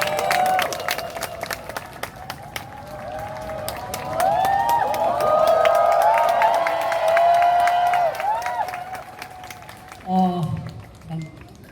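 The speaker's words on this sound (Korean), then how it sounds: "큰 박수 부탁드립니다" Students at an outdoor candlelight rally at Seoul National University applaud as a crowd. Dense clapping and scattered cheers carry on for several seconds, with voices in the crowd, and a speaker talks briefly at the end.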